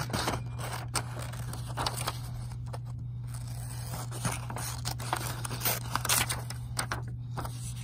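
Repeated snipping and scraping of scissors cutting through paper, close and fairly quiet, with a steady low hum underneath.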